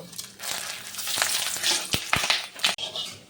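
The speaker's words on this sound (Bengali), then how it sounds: "প্রথমেই ফোড়ন ফোড়ন দেবো গোটা মশলা এখানে রয়েছে গোটা জিরে তেজপাতা এলাচ দারচিনি লবঙ্গ" Whole cumin, bay leaf, cardamom, cinnamon and clove hitting hot oil in a pan produce a dense, close sizzle broken by sharp crackles and pops, with no voices over it.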